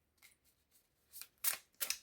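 Oracle cards drawn from a deck, soft quiet papery swishes and flicks, a few faint strokes followed by three crisper, louder slides close by.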